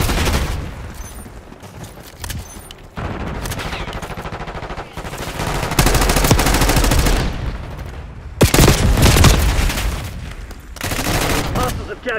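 Dense automatic gunfire rattles through a Call of Duty hardpoint match in sustained bursts with short breaks, loud and close throughout. Faint game voice announcements sit underneath.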